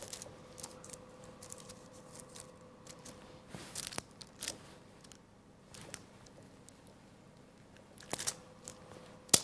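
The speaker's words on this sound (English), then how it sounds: "then if you just take the ganache and then just cut straight through" A thin-bladed knife cuts straight through a layered ganache praline slab, giving soft close crunches and sharp taps spread unevenly across a quiet kitchen.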